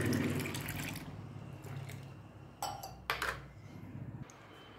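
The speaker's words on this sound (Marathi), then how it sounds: "त्यामध्ये पाणी घालायचं" Water is poured into a mixture in a bowl, a soft steady splashing stream that tapers off, followed by a few faint clinks of utensils against the dish.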